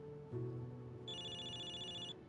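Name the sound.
phone ringing in a movie theater, Zenless Zone Zero video game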